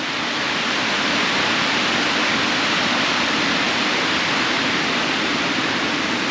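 A raging river spills over its banks, its broadband roar of rushing water steady, close and loud all the way through with no voices over it.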